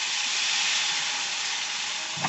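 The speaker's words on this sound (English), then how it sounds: "So I want to get the water in there. Stat. This is going to steam." Loud, steady hissing sizzle of water hitting a hot pan of rice, continuous throughout with a brief clatter near the end.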